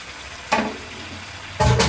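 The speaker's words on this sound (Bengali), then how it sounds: "আমি এই যে মুরগির মাংস আর আলু ভাজাগুলো আমি দিয়ে দিব।" Pieces of chicken and fried potatoes are dropped into a hot pan of oil for a garlic chicken curry, giving two short loud sizzling bursts over a quiet background.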